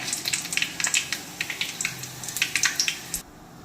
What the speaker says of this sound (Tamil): இப்போ நம்ம இது கூட நம்ம எடுத்து வச்சிருக்கிற பட்டை, கிராம்பு, சோம்பு, வரமிளகாய் ஆட் பண்ணிக்கலாம்